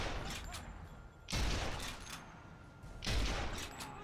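Two sniper rifle shots in the video game Sniper Elite 3, each a sharp loud boom with a rumbling tail, spaced about two seconds apart over quiet game ambience.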